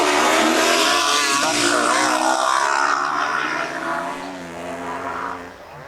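KTM snow bikes race past, a small 300 two-stroke and a larger 450 four-stroke. The engines snarl loud and close for the whole stretch, then ease off slightly toward the end.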